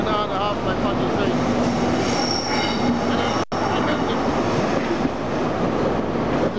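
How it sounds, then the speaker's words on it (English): A high-speed diesel train rolls through Newcastle station at close range, wheels rumbling and squealing steadily along the rails, with a brief dropout midway. "The train goes this way to Edinburgh."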